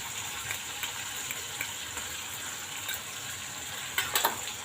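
Turmeric stirred into a sizzling tempering with a single chilli for dal, the hot oil giving a steady soft crackle with a few louder spits near the end, no talk.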